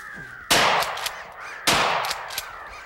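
Crows cawing as they fly overhead during a hunt: two harsh, loud, raspy calls about a second apart, each ringing out briefly over a quiet outdoor background.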